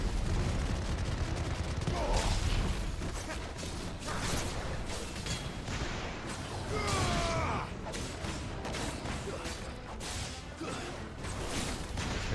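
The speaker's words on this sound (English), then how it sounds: "I got someone firing something at me, but I can't see what" Enemy fire in Final Fantasy XVI, repeated blasts and mechanical clanks with whooshing impacts over constant battle noise and music, dense and busy throughout, with a voice now and then.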